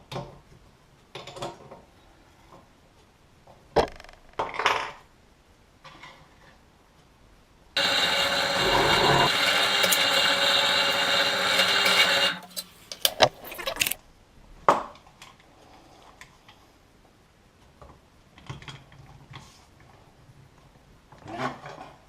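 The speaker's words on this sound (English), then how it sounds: "Now to drill the holes to rivet it together." Drill boring rivet holes in sheet metal for a split cane heat treatment tempering oven, a single steady high whine lasting about five seconds, loud and close, framed by quieter handling clatter before and after.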